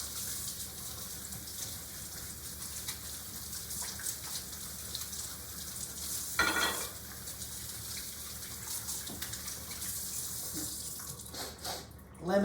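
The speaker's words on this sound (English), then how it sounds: "just start washing it off." Steady water running from a sink tap while soapy hands are rinsed, a continuous close hiss with occasional splashes and a brief louder gush near the end, no talking.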